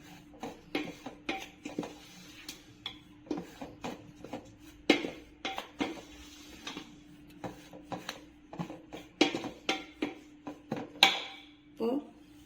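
A spoon works maida flour into butter in a bowl for rava khajoor, producing close, irregular scrapes and light clinks against the bowl at a brisk uneven pace, over a steady low hum.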